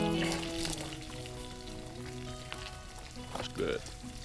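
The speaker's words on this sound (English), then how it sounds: "First piece of bacon." Bacon sizzling in a pan at a campsite in Kananaskis, Peter Lougheed Provincial Park, a steady soft crackle and spit heard up close, with occasional louder pops.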